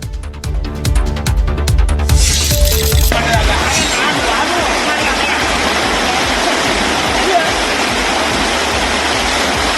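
Floodwater rushes through a river in heavy rain, a loud, continuous broadband roar that swells in after a brief opening passage and holds steady to the end.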